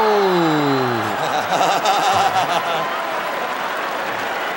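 A crowd at a Pride Fighting Championships mixed martial arts event roars with cheering and applause, a broad sustained wash of noise with some laughter, and whistle-like tones rise over it early on.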